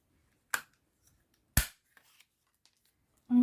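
Scissors snip through paper while making a scrapbooking pocket: two sharp, separate cuts about a second apart, then a short faint rustle, with a louder scrape at the end in an otherwise quiet room.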